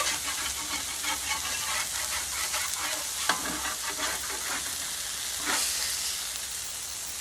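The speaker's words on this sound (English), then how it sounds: "I'm gonna season them really good. Fry up a little bit." Smashburger patties fry on a griddle with a steady, loud sizzle and crackle throughout, with a few brief scraping stirs or flips, no voices.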